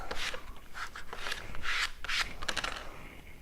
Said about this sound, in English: Now we can squeegee this sucker down.